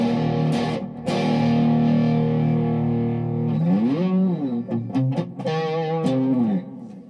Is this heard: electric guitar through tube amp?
yes